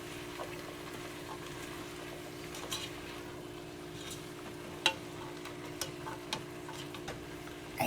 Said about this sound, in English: Stir that around in there